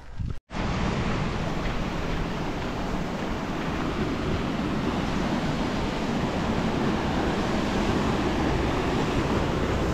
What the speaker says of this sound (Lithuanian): Čia dar krioklys.